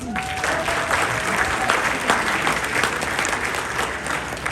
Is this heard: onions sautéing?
no